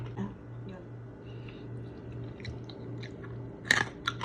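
Crispy pata, deep-fried pork knuckle skin, being bitten and chewed up close, with faint crunches through most of the clip and a sharper, louder crunch near the end.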